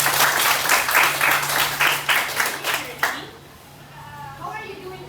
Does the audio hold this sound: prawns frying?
no